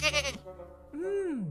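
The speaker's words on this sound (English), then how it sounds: "A curious and snacky goat that had been following them through the forest." A goat in a forest, voiced for a puppet theatre show, gives a short bleat followed by a longer, wavering bleat, close and clear.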